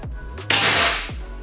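A single sharp air rifle shot from a Tactical OD 38 or Bocap 500, a loud close crack with a short hissing decay, set between faint low background hum.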